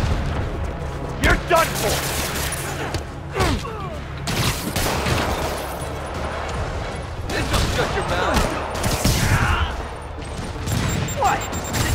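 Rockets and explosions in Marvel's Spider-Man Remastered: repeated loud booms and crashing blasts with whooshing rocket sounds, spread over several seconds, with in-game character voices talking between and over them.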